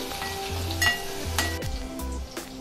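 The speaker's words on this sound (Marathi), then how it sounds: "तर सर्वात अगोदर आपण त्यामध्ये लसूण व जिरं टाकून घेऊया। हिरवी मिरची हे छान 1 मिनिटभर परतून घेणार आहोत।" Garlic, cumin seeds and green chillies sauté in hot oil in a pan with a loud, continuous sizzle and crackle, broken by a few sharp spatula scrapes and clinks.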